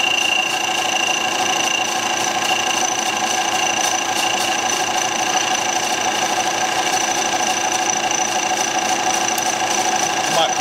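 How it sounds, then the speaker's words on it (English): A machine runs a serration tool through a slow serration cut at about four inches a minute, giving a steady, loud mechanical whine with a constant tonal hum and no breaks. "then we'll switch over to the actual serration tool and we'll serrate it"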